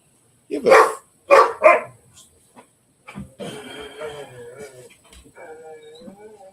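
Three quick, loud dog barks open the scene, followed by softer whining and voices talking in the background.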